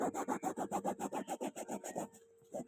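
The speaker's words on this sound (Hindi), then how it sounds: "और फिर हम इसको ब्रश करेंगे।" A brush scrubs an oil paint stain on cloth in about a dozen quick, even back-and-forth strokes, close and crisp, then stops abruptly with a brief scrape afterward.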